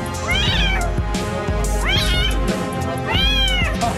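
A kitten stuck inside a washing machine cries loudly, three drawn-out, rising-and-falling meows spaced about a second apart, close and distressed, with a low rumbling background.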